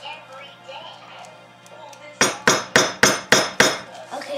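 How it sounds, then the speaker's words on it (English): After quiet talk, a hammer strikes a chisel against red brick six times in a steady rhythm, each hit a sharp, loud metallic crack that rings briefly. "Oh, you have to hammer it."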